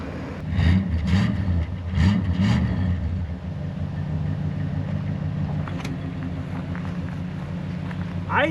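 An old Chrysler engine, revived after sitting 22 years, idles steadily with a low even rumble; a few louder revs or knocks come early on, then it settles into a smooth idle with faint background noises.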